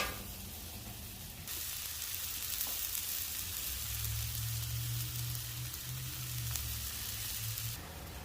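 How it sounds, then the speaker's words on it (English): Food sautés on a flat top cast iron griddle, giving a steady, close hiss and sizzle with soft crackles throughout and no talking. "I'm going to let this saute up, and then I'll see y'all back when we get our burgers on."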